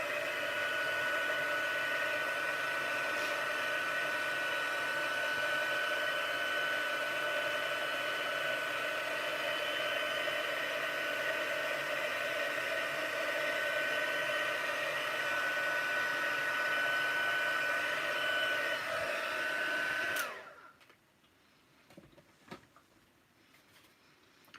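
A heat embossing tool blows hot air in a close, steady whooshing roar for about twenty seconds, then switches off, leaving a few faint clicks and handling noises.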